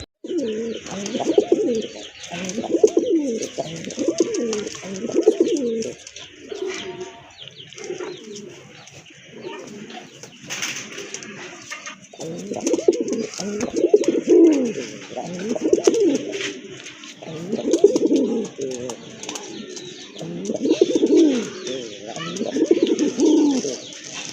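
Two red Deshi Bombay pigeons coo close by in a steady run of repeated, throbbing calls, with a brief pause near the middle and faint light chirps behind.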